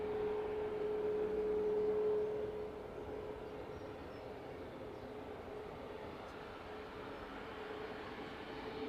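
An airliner rolls onto runway 09 at East Midlands Airport in the evening, a steady distant engine rumble with a faint whine, slightly louder for the first couple of seconds, then holding even.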